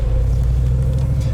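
A 500 HP HEMI-swapped Jeep Wrangler JK gives a deep, loud, steady low rumble up close for a brief moment as it gets underway.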